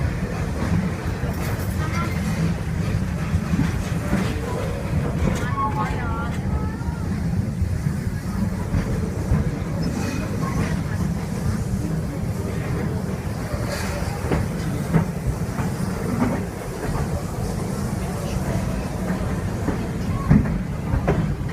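A Busch Gardens train ride rumbles and clatters steadily along its track, a constant low roar running throughout with an announcer's voice talking over it.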